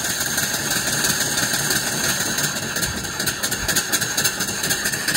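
A live mill steam engine with an alternator runs with its valve opened up toward 375 RPM, giving a steady, fast, continuous rhythmic chuffing and mechanical clatter, close and alone with no talk.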